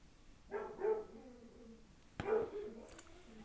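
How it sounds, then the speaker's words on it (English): A dog barks indoors: a quick pair of barks, then a pause, then another sharp bark with a short yip after it, moderately close and fairly loud against a quiet room. "Oh, dog is being loud."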